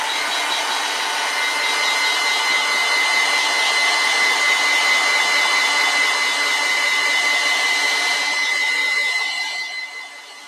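A hair dryer blows steadily close by as it dries pink paint in a mixed-media art journal, a constant whooshing hiss that cuts off near the end.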